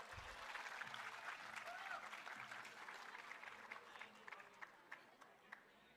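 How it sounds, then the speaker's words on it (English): An audience at a ceremony honouring university merit-list rank holders breaks into dense applause that carries on steadily, then thins to scattered, separate claps near the end. "Can we have a huge round of applause"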